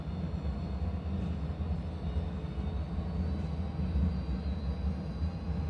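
Airliner jet engines in a flight simulator roaring steadily at high thrust for takeoff, a continuous loud low rumble with broadband hiss and no voices.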